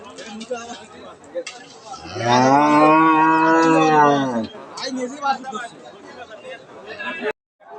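A dairy cow at a cattle market lets out one long, loud moo lasting a couple of seconds, with the chatter of people talking nearby before and after.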